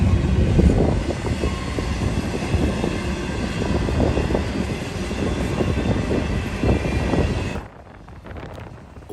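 An eastbound freight manifest rumbles past close by during railfanning in Elkhart, Indiana, a steady loud roar of wheels and cars with wind buffeting the microphone, cutting off abruptly near the end.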